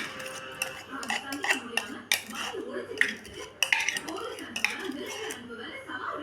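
Sambal ikan tampan mixed in a dish, a spoon clinking and scraping against the bowl in irregular bursts, close and fairly loud, with a voice talking in between.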